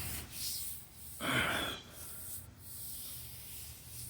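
A short burst of hand sanding on fiberglass during a rust repair, like sandpaper dragged over a hard surface, stands out against a quiet, hissy background.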